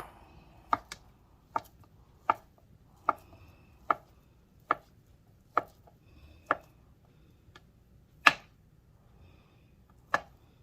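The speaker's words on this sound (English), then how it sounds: "Cutting 1 centimetre slices of spam, and then cutting that down into 1 centimetre cubes." A knife cuts spam into small cubes on a board: a dozen crisp, evenly spaced chops about a second apart, close and clear against a quiet background, no voices.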